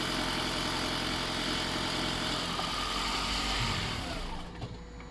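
A Toyota Auris Hybrid engine ticks over on a driveway with a steady, even hum. Near the end it quickly fades and falls quiet as the engine shuts off and the car switches to electric mode.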